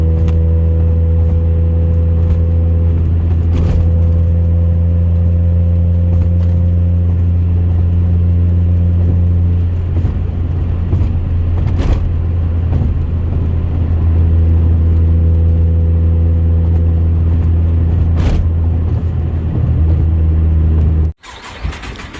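A car engine with a bad head gasket idles with a steady low hum, then is revved into a rougher, louder roar before settling back to idle and cutting off abruptly near the end; sharp clicks punctuate it.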